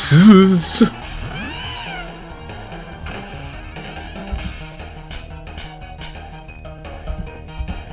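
A cat Pokémon's synthesized cry sounds in a Pokémon video game, a short, loud, warbling meow-like call in the first second, followed by game music and effects under it.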